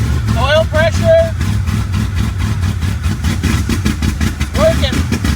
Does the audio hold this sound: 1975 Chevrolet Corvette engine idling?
yes